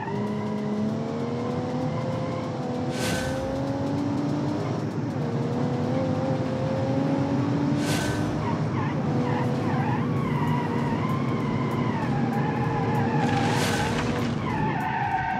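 Powerful 400-horsepower car engine in a racing video game, steady loud engine tone rising and falling through gear changes, with three sharp bursts of tyre skidding spaced across the run and no talk.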